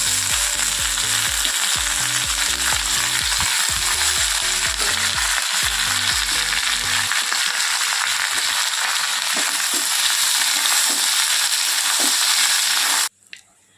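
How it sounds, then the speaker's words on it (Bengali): Pumpkin and potato fry in a wok with a loud, close sizzle. Rhythmic stirring and scraping fill the first half, then a smoother steady hiss runs until it cuts off abruptly near the end. "তো কুমড়ো আলু ভাজা করব। কড়াই বসিয়ে নিয়েছি।"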